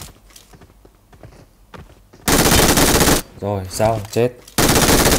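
Bursts of loud automatic gunfire from a Vietnamese-language battle royale match, long sustained volleys alternating with a male player's excited commentary over quieter footsteps and game ambience.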